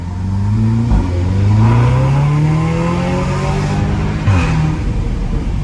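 Tuned Stage 2 Audi S3 accelerating hard under partial throttle, a loud, close engine roar rising in pitch through two gear changes, heard from inside the car without talking.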